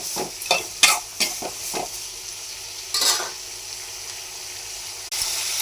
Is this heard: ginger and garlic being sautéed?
yes